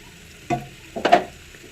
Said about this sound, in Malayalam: ഉരുക്കി വരുമ്പോൾ പിന്നെ ഇളക്കി കൊടുത്തോണ്ടിരിക്കണം.